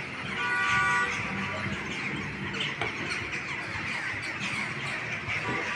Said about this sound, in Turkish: Manzaraya da kargaların sesi